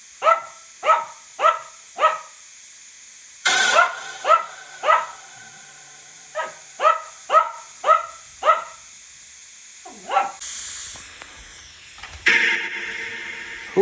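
A dog barks in repeated bursts, mostly in quick groups of three or four sharp, loud barks separated by short pauses, close to the microphone with a faint hiss between them.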